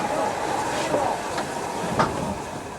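A steam yard engine shunting in a 1962 rail yard, with steady low rumble and faint clanks of wagons, two soft metallic knocks standing out from the continuous background.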